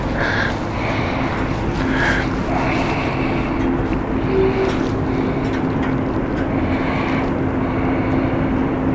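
An ITA Airbus A220 airliner at London City Airport gives a continuous loud engine roar and hum with a steady tonal drone, distant and even throughout.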